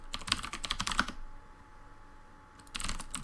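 Bursts of rapid typing on a computer keyboard, close and clear, with a pause of near silence between two flurries of keystrokes and no talking.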